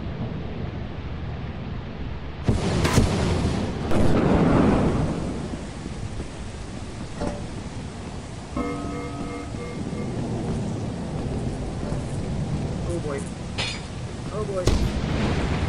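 Video game lightning storm: a sharp thunder crack followed by a deep rumbling roll, then steady rain with a couple of later smaller cracks, loud and close with no talking.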